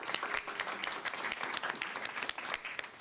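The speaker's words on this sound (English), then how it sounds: "Let's give them both a round of applause." Audience applause at a mayoral press announcement on parking placards in New York, a steady patter of many hands heard somewhat distant and fairly quiet for the full few seconds.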